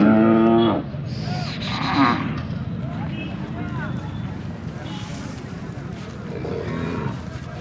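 Bulls and young calves at the Kharsundi cattle market in 2025, with a moo at the start amid a busy outdoor crowd, wind buffeting and steady chatter of people talking throughout.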